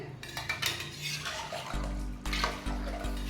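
A spoon stirs a pot of one-pot chicken briyani, giving a series of metallic scrapes and clinks against the pot, with a low steady hum of bubbling liquid or burner underneath.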